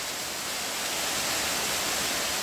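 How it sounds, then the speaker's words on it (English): A high double waterfall in a canyon pours steadily, a dense, unbroken roar of falling water filling the air at close range with no voices. "Wow, this is one high waterfall."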